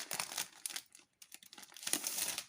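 Scrapbooking paper sheets with a unicorn theme are pulled from their plastic packaging, giving soft, close crinkling and rustling in short bursts with a brief pause midway.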